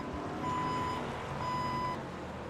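Reversing beeps from a vehicle backing up at a Midwest Elite Racing event at Martinsville, two long even tones that stand out over a steady engine and crowd rumble.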